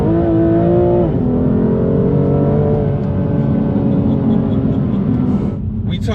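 A steady, droning S55 engine note heard from inside a BMW M2 Competition, rich and humming with enhanced cabin tone, its pitch dipping slightly early on before holding level.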